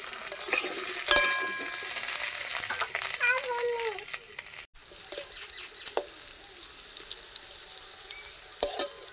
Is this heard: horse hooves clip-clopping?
no